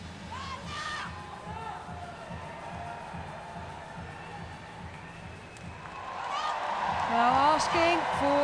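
Crowd at a Paralympic women's -67kg powerlifting event in Rio 2016, a broad murmur that swells into louder cheering and whoops near the end, with a commentator's voice talking over it.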